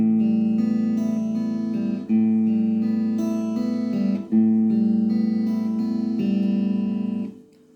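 Guitar fingerpicked with thumb and fingers in a steady repeating pattern, clear plucked notes played close and evenly in three similar phrases, each ending before the next begins.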